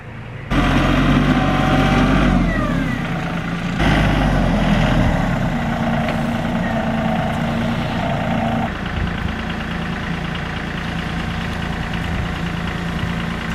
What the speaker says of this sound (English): spread it out using the tractor